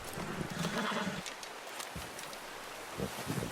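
A horse in the video game Red Dead Redemption 2 gives a few soft snorts and hoof sounds over a steady outdoor wind-like ambience.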